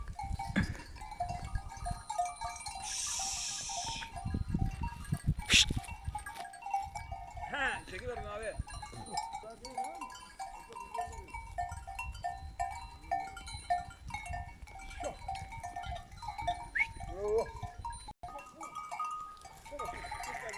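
Sheep bleat intermittently in a farmyard, with a cowbell clanking now and then while people talk nearby over steady background noise.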